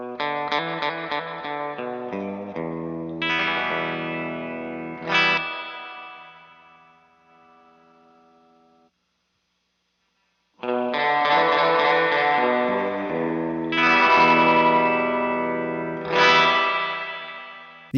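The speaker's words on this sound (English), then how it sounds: "And the mix knob is how much of the reverb effect you want." Electric guitar played through a Golden Reverberator reverb pedal: strummed chords ring out with lush, washy reverb tails, fade into silence, then return with fuller sustained chords that bloom and decay.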